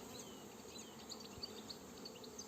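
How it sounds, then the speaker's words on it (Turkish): Honey bees crowd a hive entrance while bringing in pollen, making a dense, steady buzzing hum that stays close and continuous throughout, with no talk over it. "Arılarımız yoğun bir şekilde polen getiriyor arkadaşlar."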